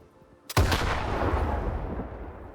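A single loud RPG-7U rocket launch blast in the video game STALKER 2 erupts after a brief quiet moment, followed by a long rumbling roar that slowly fades.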